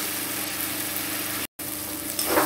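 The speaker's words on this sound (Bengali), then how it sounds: "মশলাটা একটু ভালো করে কষাবো" Spice masala of turmeric, chili powder and Kashmiri chili powder frying in a pan for mutton curry, giving a steady broadband sizzle that stops briefly mid-clip, then returns with a louder scraping stir at the end.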